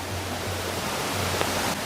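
The Shypit waterfall in Zakarpattia gives a steady broadband rush of falling water, continuous and fairly loud, with no voices over it.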